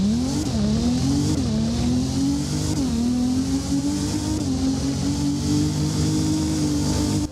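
A Nissan 350Z accelerates in the driving game Driving Empire, its engine climbing in pitch through several gear changes with brief dips between, a loud continuous revving tone with faint tire noise and no talking.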